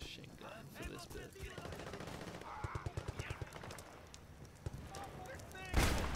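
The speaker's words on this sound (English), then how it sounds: "I'm gonna go close quarters machine gun for this bit" Close-quarters machine gun fire in Battlefield Bad Company 2, heard as a run of sharp rapid bursts in the middle of a dense battle mix, followed by a loud blast near the end.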